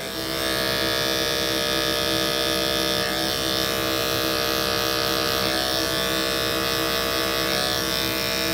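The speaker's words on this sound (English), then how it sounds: "I'm using my animal clipper today." An electric animal hair clipper with a detachable blade buzzes steadily and loudly for several seconds, a continuous close motor drone while cutting hair for a 360 wave haircut.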